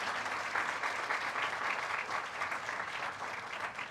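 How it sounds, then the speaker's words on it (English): An audience at a tech event applauds after a talk on smart robots, giving an even, continuous wash of clapping at moderate distance that holds steady throughout. "Let's have a huge round of applause for this insightful session"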